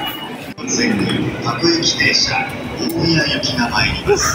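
Train ride in Japan heard from inside a carriage, a steady rolling rumble with faint squeals and clatter, while people talk nearby.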